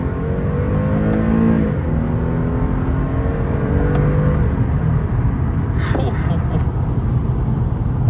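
An Infiniti G37 in second gear after a paddle-shift downshift hums with a steady low engine drone and road rumble, its pitch easing slightly, while a voice talks over it from inside the cabin.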